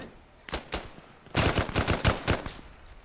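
Gunfire in a military video game with helicopters, sporadic shots then a dense rapid burst of repeated loud bangs, close and sharp.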